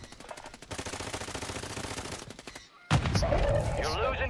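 Rapid automatic gunfire in Warzone 3, a dense burst of close, loud shots for a couple of seconds, then a short gap and a heavier blast with rumbling echo.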